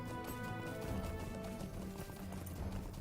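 Horse hooves gallop in Lord of the Rings Online, a steady, close clip-clop rhythm running the whole time beneath a bed of game music.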